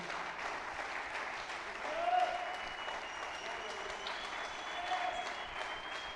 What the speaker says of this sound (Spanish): ¿Por qué no le da un fuerte aplauso al Dios Todopoderoso?